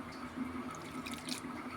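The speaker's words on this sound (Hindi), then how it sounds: "तो मैं इसमें और पानी डालूँगी" Faint, steady trickle of water being poured into pakora batter, with soft dripping and splashing close by.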